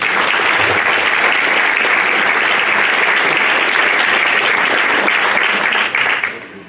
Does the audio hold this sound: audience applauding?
yes